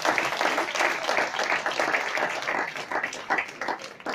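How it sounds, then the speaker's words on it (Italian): Steady applause from an audience at a network marketing seminar, many hands clapping together in a dense, continuous patter without any speech. "facciamoci un applauso perché siamo grandi"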